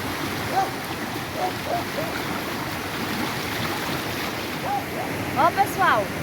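A waterfall's steady rushing wash plays continuously throughout, with faint birdsong chirps drifting in over the roar near the end.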